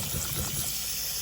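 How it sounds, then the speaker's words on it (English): Cold tap water gushes steadily over macaroni being strained and rinsed, a loud, close, continuous rush of running water with no talking. "We're going to strain them and run them under some cold water"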